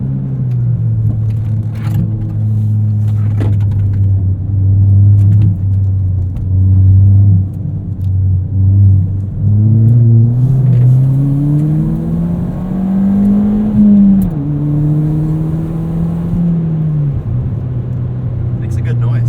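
A modified 2017 Ford Fiesta ST engine accelerating on an autocross course: a loud, close, continuous drone that climbs steadily in pitch, drops at a gear change and climbs again, heard from inside the car.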